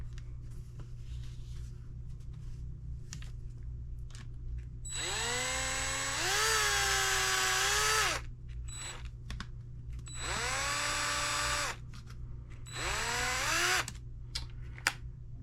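A power driver sets screws into an Arrma Limitless RC car build, whining up in three separate close bursts of a few seconds each, with quiet handling pauses between them.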